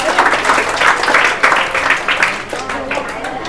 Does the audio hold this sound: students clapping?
yes